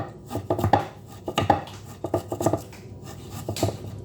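A small knife finely minces ginger on a board in irregular bursts of crisp, close chopping taps separated by brief pauses.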